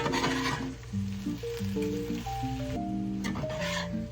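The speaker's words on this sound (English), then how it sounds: "So while that egg is cooking, this skillet here" Eggs sizzle and crackle steadily in a cast iron skillet while being stirred, a close, continuous frying hiss, with a steady tonal hum running underneath and no talking.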